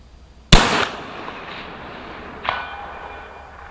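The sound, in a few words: rifle shot from Cadex CDX-30 Guardian TAC .308 Win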